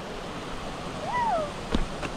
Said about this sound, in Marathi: इकडे पूर्ण धबधबा हे बघा, एक नंबर धबधबा आहे